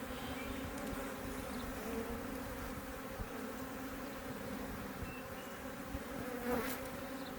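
Agitated honeybees swarm around an opened hive during an inspection, their dense, continuous buzzing droning evenly at close range throughout.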